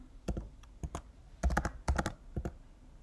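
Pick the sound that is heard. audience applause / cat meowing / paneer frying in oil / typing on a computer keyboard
typing on a computer keyboard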